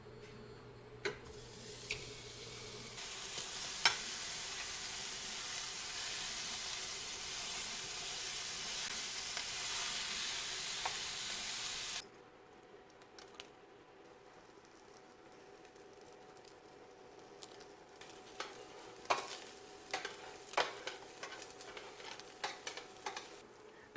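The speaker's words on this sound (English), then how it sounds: "first thing that we want to do is brown our hamburger meat" Hamburger meat browning in a pan for spaghetti meat sauce, a steady broadband sizzle for about twelve seconds, then quieter with scattered clinks and scraping stirs.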